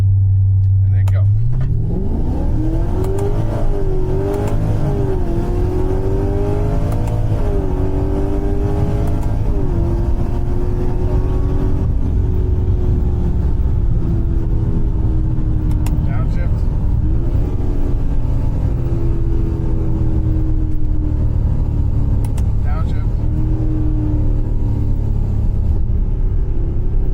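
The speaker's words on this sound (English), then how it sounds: "Now I want to do a trans brake launch out of 1st." A Pontiac GTO launches off the trans brake from first gear, engine roaring loud as it climbs through the revs with paddle shifts breaking the rising pitch, people talking over the steady rumble.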